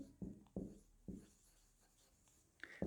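Chalk or marker scraping across a classroom board in three firm strokes followed by lighter scratches, close and quiet, with no talking during the writing.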